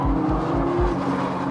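Nissan GT-R Black Edition, a 2013 model, cornering hard under heavy throttle, its engine note loud and close with rhythmic low pulses and a steady tonal drone.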